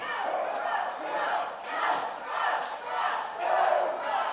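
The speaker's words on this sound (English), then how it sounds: "The crowd getting hyped here." Wrestling crowd at a live Pittsburgh wrestling show cheering and yelling in sustained swelling waves, loud and close, filling the whole moment with no clear speech.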